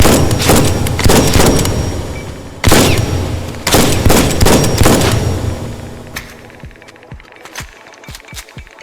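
Rapid gunfire from a magazine dump in the Misery video game: dense, loud bursts of shots for about six seconds with brief gaps, then a handful of sharp, separate shots trailing off into quieter surroundings.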